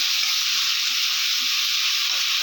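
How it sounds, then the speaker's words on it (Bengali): Ginger, cumin and chili paste with tomato being stirred in a hot pan, giving a continuous, even sizzle and hiss with no talking. "আদা জিরে লঙ্কা বাটাটা দিয়ে দিলাম, টমেটোটা দিয়ে দিলাম, দিয়ে বেশ কিছুক্ষণ নাড়াচাড়া করে নেব"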